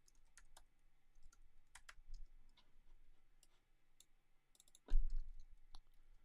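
Text is typed into Figma on a computer keyboard. Quick, light key clicks patter in short bursts, fairly quiet and close, with a duller thump near the end.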